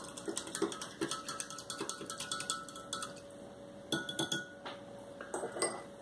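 A spoon clinks and scrapes steadily against a bowl while yeast and sugar are stirred together, a quick rhythmic series of bright metallic taps, close and clear with no talking.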